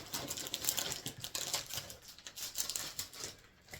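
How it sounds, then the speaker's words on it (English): Plastic packaging crinkles and rustles in a steady run of small crackles, close and fairly loud, with no voice over it. "I apologize for the crinkle."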